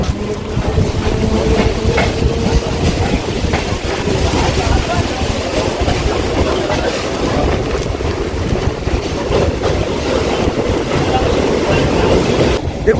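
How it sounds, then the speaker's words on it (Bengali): A Howrah to Sealdah local train running in heavy rain, with a steady, loud rumble and rattle of carriages, wind buffeting and scattered clatter throughout. "ট্রেন অলরেডি ঢুকে গেছে ওই যে"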